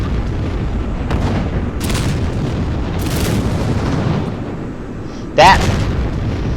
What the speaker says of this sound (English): We've been hit by flak guns. You can see some bursts, and they are tearing us up.